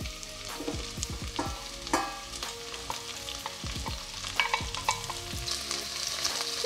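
Cabbage hits a pot of glassy, softened onions and sizzles, with repeated scraping stirs of a spoon cutting through the steady frying hiss.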